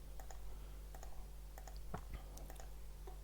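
Keys clatter on a computer keyboard while Korean text is typed, scattered quick clicks at close range over a steady low hum, with no talking.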